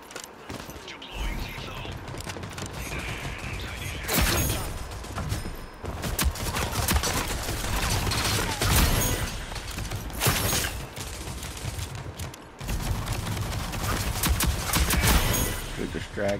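Shotgun blasts in the online shooter Rogue Company, repeated heavy booms spread across a busy, loud game mix with mechanical reload clatter between shots.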